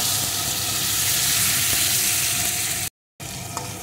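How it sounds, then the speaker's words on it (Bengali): Fried eggs being stirred into hot, oily masala in a pan for egg curry, a loud, dense sizzle and hiss that cuts out briefly and resumes, no voices. "ডিমগুলো একটু মশলার সাথে নাড়িয়ে নেব।"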